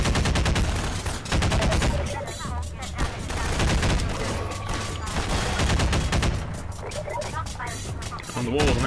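Dense gunfire in the first-person shooter Half-Life 2 during a mine level, with rapid shots and bursts running continuously over nine seconds against loud game noise.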